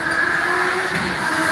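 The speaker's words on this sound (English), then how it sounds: "Yeah, that's the motor car. You're awesome. Make a lot of noise." A motor car passes loudly on a street in North Point, Hong Kong, its steady engine drone and whine close and continuous for a moment.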